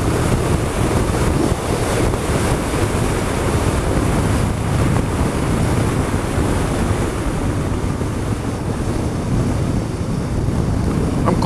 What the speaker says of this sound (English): I'm quite surprised how windy it is, to be perfectly honest.